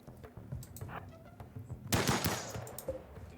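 Gunfire in the colony game RimWorld, with scattered sharp shots at moderate distance and a denser burst of fire near the middle, mostly without talk.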